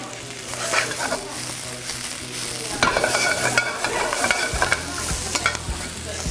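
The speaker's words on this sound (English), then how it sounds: "we gotta give it a little stir up" Garlic and fresh scallions sizzle and fry in a hot pan while being stirred, with steady crackling and scraping utensil strokes throughout, close and moderately loud.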